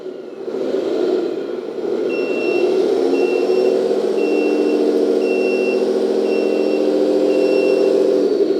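A toy 8x8 hydraulic dump truck drives backward, its electric motor whining steadily while a reversing alarm beeps in a regular on-off rhythm, close and clear with no talking.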